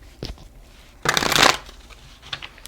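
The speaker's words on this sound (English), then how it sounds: "I'm going to shuffle here." A short burst of cards being shuffled, crisp riffling lasting about half a second, close and clear, with quiet handling sounds before and after.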